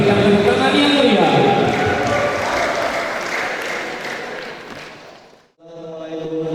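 Applause from the audience at a vocational aviation high school graduation ceremony, a broad sustained wash of clapping that gradually fades, followed by a brief lull and then a voice with music after it.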